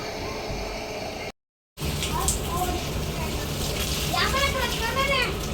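Water gushing steadily from a running motor pump while washing outside a house in hot sun, a continuous splashing flow, close and loud, briefly cut off by a short gap, with bird chirps faintly in the background.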